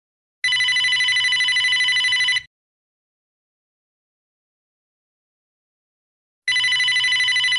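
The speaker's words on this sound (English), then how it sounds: "Answer the phone, Magnum." A telephone bell rings loudly in two separate bursts of rapid trilling, each lasting about two seconds, with a long silent gap between them.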